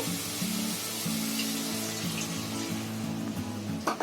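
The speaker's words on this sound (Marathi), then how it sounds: "आता याच्यामध्ये मी पाणी टाकते" Water pours into a pan of simmering vegetable curry on a stove, a steady splashing gush with bubbling sizzle underneath, close and continuous.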